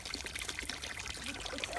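Water pours and trickles steadily from a garden waterfall, a faint continuous splashing with no other clear sounds.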